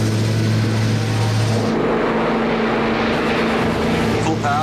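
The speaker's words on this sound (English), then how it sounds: "In light snow, with the temperature hovering around freezing, Thane and Raymond start their takeoff run." An airliner begins its takeoff run in light snow near freezing, its engines a loud broadband roar whose low tone drops away partway through as the power builds, with a faint voice near the end.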